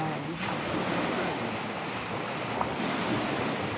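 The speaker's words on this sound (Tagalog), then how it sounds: "Ang sarap pakinggan nung alon ng tubig, guys." Ocean waves wash on a beach by the sea with a continuous broadband rush of surf, mixed with wind buffeting the microphone, steady and fairly close with no talking.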